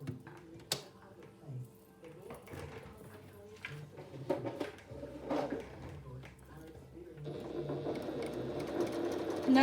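A sewing machine stitching a quarter-inch seam on quilt binding: scattered clicks and fabric handling, then a steady close mechanical whir that runs to the end, with a voice speaking in places.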